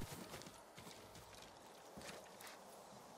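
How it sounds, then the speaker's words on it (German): Horse hooves clip-clopping in the video game Ghost of Tsushima, a close, rhythmic series of hoof strikes at walking pace with a faint whinny and a soft ambient bed. "Ah, das ist sein Pferd."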